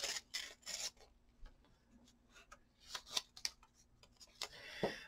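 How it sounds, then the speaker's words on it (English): Wide masking tape pulled from the roll and torn during collage crafting with old papers, heard as close, scratchy ripping bursts and short rasps, fairly quiet, with no talk. "I'm gonna use my wider masking tape"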